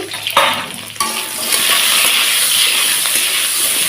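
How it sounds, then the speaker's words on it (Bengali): Steady sizzling of brinjal (eggplant) pieces frying in hot oil, with a few clinks and stirring sounds at the start before the sizzle settles into a continuous hiss. "তো ভালোভাবে বেগুনটাকে ভেজে নেব"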